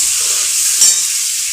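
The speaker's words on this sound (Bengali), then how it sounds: "এখন আমি এটা দিয়ে ভালো করে কষিয়ে নেব, তখন পর্যন্ত তেল না বেরোচ্ছে" Onion paste and spice mix frying steadily in oil while being stirred down for spiced duck eggs with potato, a broad continuous sizzle with a brief louder flare midway.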